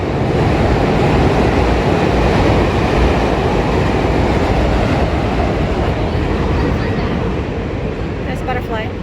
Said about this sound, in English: Oh, there's the infamous train.